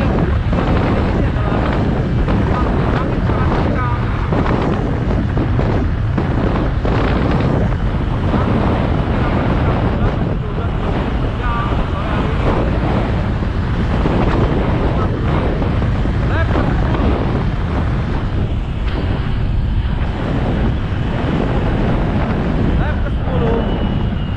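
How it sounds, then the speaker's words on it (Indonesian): Strong wind buffets the microphone throughout a cycling team time trial on the road, a loud continuous rushing roar with gusty surges, and a commentator talks over it. "Di sini anginnya sangat kencang"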